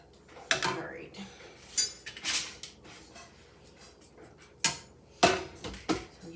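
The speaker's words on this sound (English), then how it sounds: "So give that a stir." A spoon stirs minestrone soup in a pot, scraping and clinking against the sides in a few irregular bursts, fairly close and moderately loud, with some quiet kitchen noise between strokes.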